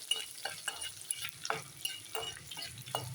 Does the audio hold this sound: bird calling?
no